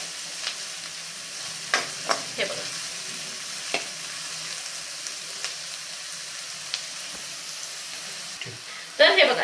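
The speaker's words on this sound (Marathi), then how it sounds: "छानपैकी इथे कांदा परतला गेला आहे" Finely chopped onion sautéing over medium heat in a pan for street-style pav bhaji, a soft steady sizzle with scattered stirring clicks and scrapes, close, ending in a brief louder clatter.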